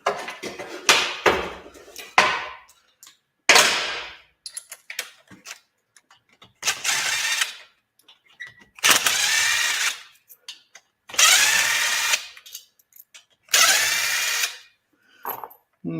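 Bolts coming off a motor cover during an engine teardown, heard as several loud bursts of a power tool spinning, each lasting a second or so and separated by pauses with clinks and small handling noises, close up.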